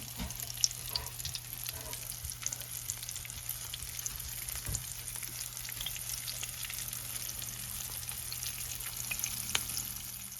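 Food fries in a pan with a little oil, giving a steady crackling sizzle with faint scattered pops and occasional clinks of stirring, close and even throughout.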